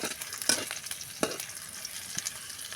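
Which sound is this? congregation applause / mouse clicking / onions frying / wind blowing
onions frying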